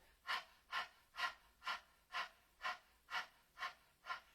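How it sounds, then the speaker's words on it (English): A Kundalini yoga breath of fire done through an open mouth with the tongue out, heard as nine sharp, evenly spaced panting breaths, close and quiet, with no talk. "begin breath of fire with your tongue out of your mouth"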